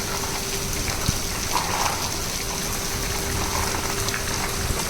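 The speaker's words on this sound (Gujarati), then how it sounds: "જોઈ શકો તમે, ફૂલ જ વરસાદ ચાલુ છે ઉપર." Heavy rain pours steadily over a construction site, a dense, loud, continuous wash of falling water with no break or voices.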